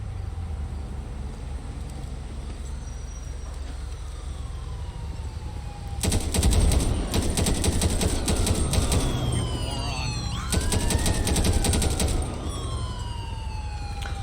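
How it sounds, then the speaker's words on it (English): Bursts of rapid gunfire aimed at police in GTA V crackle in two dense volleys, with police sirens wailing and someone talking over the din. "shots fired at police"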